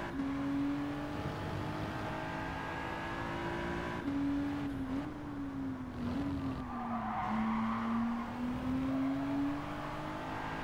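A Nissan race car accelerates in Gran Turismo 7, its engine holding a steady sustained drone that slowly rises and dips in pitch. Tire squeal and skidding mix in, and the car is loud and close with no speech.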